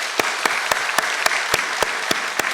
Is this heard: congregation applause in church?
yes